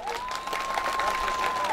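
Crowd applause at a Yörük festival auction in Banaz, Turkey, a short stretch of steady clapping with a faint tone running through it.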